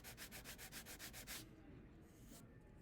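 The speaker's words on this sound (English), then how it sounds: "we sand off the same amount from each fin" Model rocket fins on an Estes Wizard kit being sanded by hand, a quick run of about nine even back-and-forth rasping strokes, close and steady, then a quieter stretch with one faint brief scrape.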